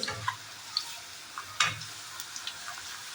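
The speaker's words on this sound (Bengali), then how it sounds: "এই দেখো আমার আলুর চিপসগুলো অনেকটা ভাজা হয়েছে, আর ভাজবো না।" Potato chips fry in hot oil in a home kitchen, a soft continuous sizzle with scattered faint pops and ticks, plus a couple of louder clinks.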